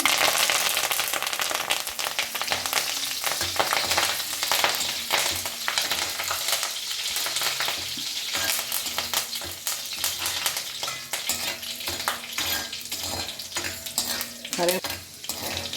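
Curry leaves frying in peanut oil, a loud continuous crackling sizzle with occasional pan rattles and stirring scrapes over about sixteen seconds, no speech.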